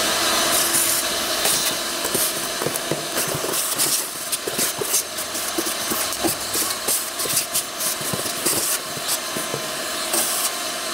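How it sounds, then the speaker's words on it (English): Shop vac sucking lawn clippings out of a riding mower: a loud, steady motor roar with rattling and knocking as debris is pulled in, close and continuous, with no talking. "I'm just going to grab my shop vac. We'll get all these lawn clippings out of here."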